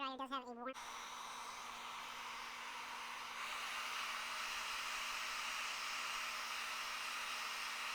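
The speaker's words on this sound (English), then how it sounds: "realize that this hairdryer does have a warm..." A hairdryer blows with a steady, even whoosh, close to the microphone, and it keeps going after a short burst of speech at the start.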